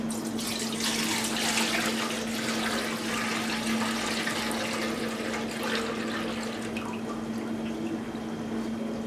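Kelp soaking water from shabu shabu broth prep pours into a kitchen sink, a steady rushing, splashing stream that lasts about nine seconds with no voices.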